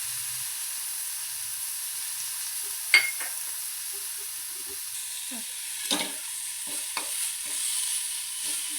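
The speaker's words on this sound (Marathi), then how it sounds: "आता जिरं मोहरी तडतडलं" Cumin and mustard seeds splutter in hot oil in a kadhai, a steady close sizzling hiss broken by scattered sharp pops and crackles.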